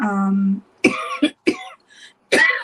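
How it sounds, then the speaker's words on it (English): A sustained vocal tone breaks off into several sharp, close coughs in quick succession, with short silent gaps between them. "I think it's the talking that's making me cough"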